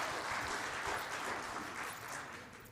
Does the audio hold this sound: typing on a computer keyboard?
no